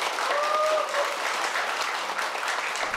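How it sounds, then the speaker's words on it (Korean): Audience applause at a Korean Buddhist missionary ordination ceremony, a loud, steady wash of clapping from a large crowd lasting the full few seconds. "주지스님께 한번 큰 박수 부탁을 좀 드리겠습니다."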